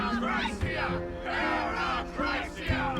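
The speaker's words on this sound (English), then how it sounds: "The members of the Council of Elders are cheering in excitement yet again." A crowd of Council of Elders members cheers excitedly in the video game Honkai Star Rail, with rhythmic rising shouts in repeated bursts over music.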